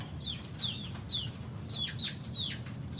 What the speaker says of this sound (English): Chicken's got a beetle or something. Pretty excited about it.